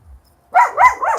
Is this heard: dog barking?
yes